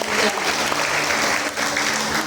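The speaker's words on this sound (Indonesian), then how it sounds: "Kita beri tepuk tangan untuk dua orang" A church congregation at a New Year's Day service applauds two people standing up, giving a brief burst of full, even clapping with a faint murmur of voices underneath.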